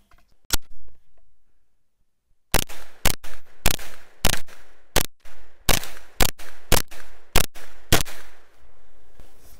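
A 9mm side-charging 10.5-inch AR pistol fires one shot, falls silent, then fires a fast string of about a dozen sharp, loud reports, close and evenly spaced, each with a short echo.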